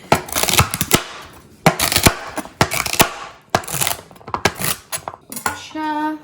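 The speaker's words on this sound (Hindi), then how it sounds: "बड़े पीसेस में काट के और फिर पॉट के अंदर डालेंगे" Vegetables being chopped into big pieces with a knife on a board, a series of sharp, close, irregular knocks in quick clusters, with a brief tonal clatter at the end.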